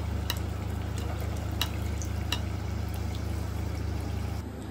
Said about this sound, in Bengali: এইভাবে আমি সমস্ত লুচিগুলিকে ভেজে নেব।